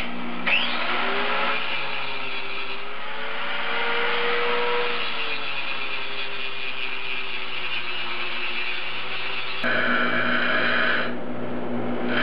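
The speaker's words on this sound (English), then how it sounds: "I have to grind some bevels for the final weld to sit in." A grinder cutting bevels into turbo manifold pieces for a 1976 Mazda RX-5 Cosmo, a steady whining grind that holds for about twelve seconds with shifting pitch, close and loud, briefly brightening near the end.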